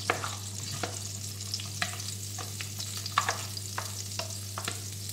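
Onion frying in a very hot pan with green pepper nearby: a steady loud sizzle with regular scraping strokes of a utensil stirring, no one speaking.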